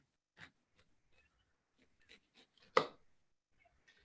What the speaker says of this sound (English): Let us go ahead and cut the orange again.